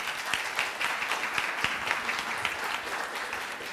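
An audience at a law school discussion bursts into steady applause, a dense wash of clapping that holds at even strength throughout with no talk over it.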